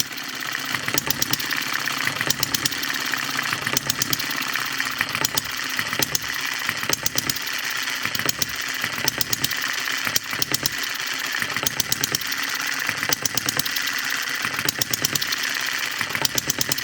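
A Kerzel engine with an oiled crank and main bearings runs steadily, a loud, even, rhythmic chuffing beat repeating throughout without talk.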